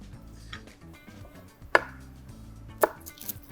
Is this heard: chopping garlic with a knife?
yes